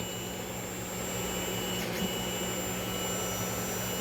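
A 3D printer laying down a first layer in a cold garage, giving off a continuous whirring hum with a steady high whine at moderate, unchanging loudness.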